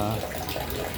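Water drains from a fishpond on a third floor, a steady splashing, gurgling flow heard close and continuous through the whole moment.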